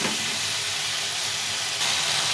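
Potatoes sizzle steadily in hot spiced oil for a Bengali fish curry, a dense continuous frying hiss up close with no talk.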